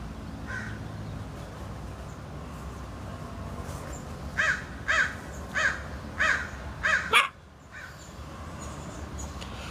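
A crow caws repeatedly in a steady series of six or so loud, evenly spaced calls over a low outdoor rumble, followed by a short clatter and then quieter background.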